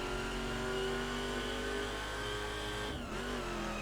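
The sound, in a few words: Ferrari car engine revving in video game The Crew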